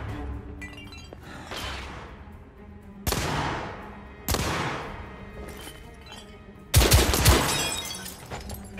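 Gunfire and shattering impacts in the video game The Order: 1886, several loud separate blasts with sharp onsets and decaying tails, the last burst the heaviest, over a low background.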